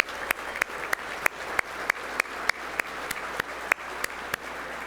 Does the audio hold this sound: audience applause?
yes